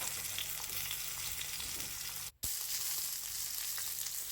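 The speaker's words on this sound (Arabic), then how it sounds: "راني حطيته في المقلاة شواء، درت فيه الملح شوية فلفل، نخليه يتحمر" Mero fish frying in a pan with salt and pepper, a dense steady sizzle close by, cut by a brief dropout partway through, with no talking.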